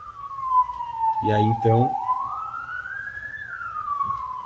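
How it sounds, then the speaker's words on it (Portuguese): An ambulance siren passes outside, its long wailing tone rising and falling steadily throughout, loud and close, while someone speaks briefly over it. "perdão aí pela ambulância passando."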